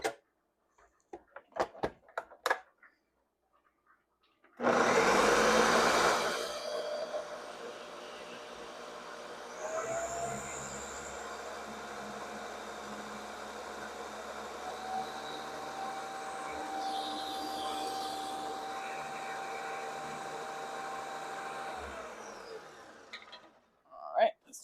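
A countertop blender whirs through a creamy poblano pepper sauce for pasta. It starts with a sharp loud burst, then settles into a long steady motor drone that shifts in pitch midway, and stops near the end, with a few clicks before it.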